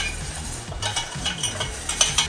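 A butter and flour roux stirred in a pan, continuous scraping and swishing of the spoon across the bottom with soft bubbling underneath, close and moderately loud, with no talk.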